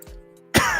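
A sudden harsh cough bursts out close by after a moment of quiet, loud and abrupt.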